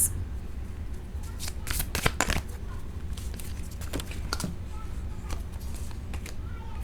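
Tarot cards riffle and snap as a deck is shuffled and individual cards are drawn, a steady run of close, crisp papery flicks with a few sharper slaps, alone without talk.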